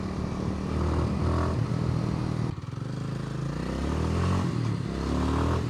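A 2025 Kawasaki W230 motorcycle engine on the move, a close, steady, grunty rumble with slight rises and dips in revs over a few seconds, no talk.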